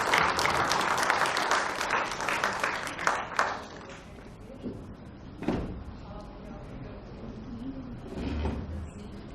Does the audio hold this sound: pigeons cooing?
no